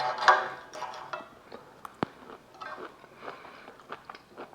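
Bites and chewing on a cooked carrot that is still a bit crunchy, with a sharp crunch near the middle and softer chewing sounds scattered around it, close and fairly quiet.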